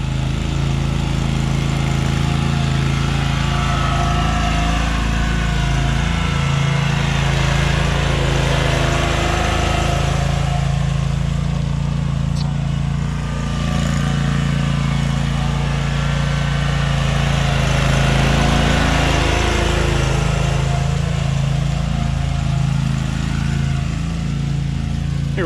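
A lawn core aerator runs on grass pulling up soil plugs, its engine droning steadily and loudly at close range with a rough mechanical chug throughout.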